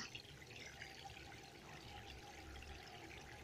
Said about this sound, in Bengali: দেখো আমি পুরো ভরে দিচ্ছি, এবং গাছটা অনেকটা জল টানবে